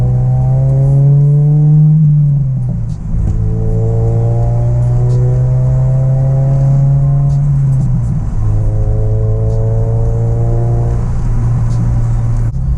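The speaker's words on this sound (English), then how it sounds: "The exhaust is very loud, so hopefully you guys can hear me." An Acura RSX with a very loud exhaust idles and revs close by, its deep exhaust drone rising and falling in steady surges with no talking over it.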